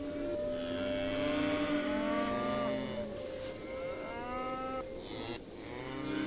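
Cattle lowing among the farm animals of the Songs of Syx city-building video game, several drawn-out moos overlapping over a steady ambient hum, no speech.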